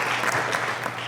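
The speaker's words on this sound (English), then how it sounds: "please give them a round of applause" Applause from an audience at a college graduation ceremony, steady clapping throughout a short burst with no voices over it.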